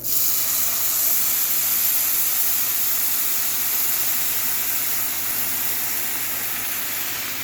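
Food sizzles loudly in a hot pan, a constant hiss that holds steady throughout.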